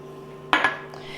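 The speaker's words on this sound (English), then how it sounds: "Now I'm going to go ahead and add in my chopped green pepper." Chopped green pepper tipped into a bowl of mixed beans gives a sharp clatter against the bowl, then a softer second knock and faint rustle, close and alone in a quiet kitchen.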